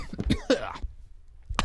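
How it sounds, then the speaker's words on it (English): Several sharp coughs burst out in quick succession, then a pause and one more cough near the end, close and fairly loud, with no speech. "And guess who's coughing?"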